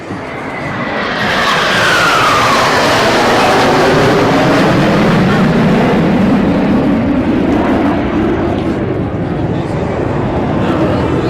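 Indian Air Force Surya Kiran aerobatic team jets fly past at an air force academy passing out parade, a loud sustained roar that swells and holds with a sweeping engine whine.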